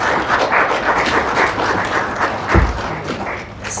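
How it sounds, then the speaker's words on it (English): Sustained applause from an audience at a state visit press event in Zambia, a dense, steady wash of clapping with a dull thump partway through, fairly loud and continuous. "May we please have another round of applause?"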